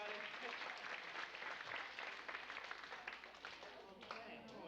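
Applause and clapping from a magic show audience for a volunteer who helped with a rope trick, a steady wash of many hands lasting throughout, with voices mixed into the crowd.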